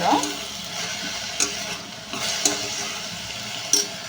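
Onions frying in oil in a pan on a gas stove, a steady close sizzle with a few separate stirring scrapes spaced through it.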